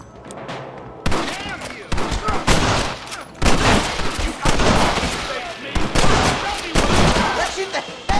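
Gunfire in Red Dead Redemption, a western video game: a rapid fusillade of loud, sharp shots bursting in repeated volleys with brief gaps, close and dense, with voices shouting faintly beneath.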